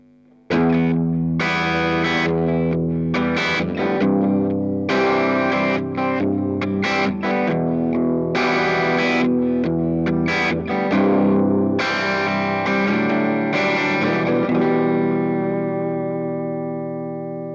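A distorted electric guitar through a modeling amplifier plays chords and riffs with a gritty amp tone, loud and sustained with some echo, then rings out at the end.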